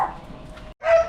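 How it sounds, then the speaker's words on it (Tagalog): Dogs at a rural boarding house give a short whimpering yip, then after a brief gap a sharper bark-like yelp, both close and fairly loud. "May mga aso kasi sila"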